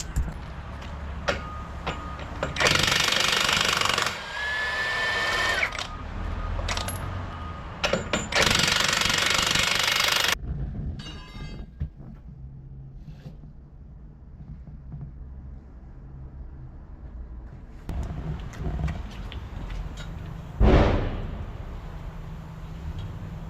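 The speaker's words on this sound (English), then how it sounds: "I don't know what it's called, but I just call it a air blaster." An air blaster seating a truck tire bead during wheel work gives several loud, harsh bursts of rushing air in the first ten seconds, then quieter clanks and rattles, and a final sharp blast near the end.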